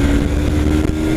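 Yamaha R3 sport motorcycle engine on a test ride at the Interlagos circuit, a loud steady drone with a held tone and heavy wind rush, with no speech.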